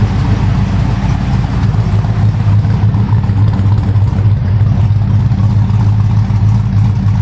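A 1979 Ford short bed pickup's 351 V8 running close by, a loud, steady deep rumble with an even idle throb throughout.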